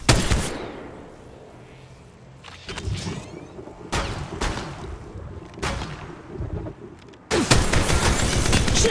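Gunshots ring out in Apex Legends Mobile, several sharp separate bursts and single cracks spaced across the span, ending in a denser volley.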